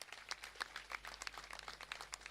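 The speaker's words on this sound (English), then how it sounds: "Can we have a big round of applause for all the awardees?" Soft, faint applause from an audience at a college graduation day ceremony honoring awardees, a dense patter of many hands clapping steadily and distantly for a couple of seconds.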